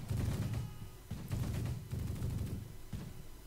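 Bursts of gunfire in a WWII video game set around Caen, with rapid rattling volleys, short pauses between them and loud, dense firing that fills the whole stretch.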